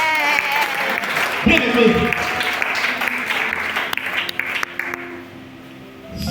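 A church congregation applauds and cheers during a worship service, a dense, sustained wash of clapping that runs under a preacher's voice before thinning out at the end.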